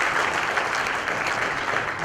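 A steady round of audience applause welcoming a teen honoree at an awards event, a continuous moderate wash of many hands clapping with no voices on top, lasting about two seconds.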